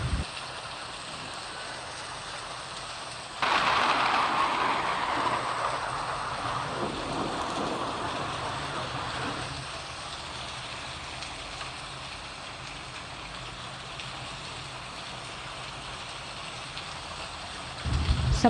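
Heavy rain with strong wind, a continuous dense roar that swells louder after a few seconds, holds for a while, then eases back to a steady wash.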